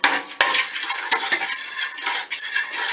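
Pain perdu mixture of eggs and milk being mixed in a stainless steel dish, with sharp metallic scrapes and clinks of a utensil against the steel recurring every second or so over a wet stirring sound, close up.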